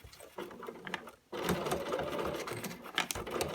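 A sewing machine runs a long straight seam on denim jeans with a 6 mm stitch length. After a brief quiet pause, a steady, close mechanical whir starts and continues to the end.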